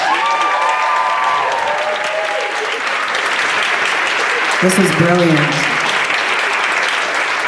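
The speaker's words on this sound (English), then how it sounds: "Can we give them one more round of applause?" An audience at an arts event applauds performers in a loud, sustained burst of clapping, while someone speaks briefly over it partway through.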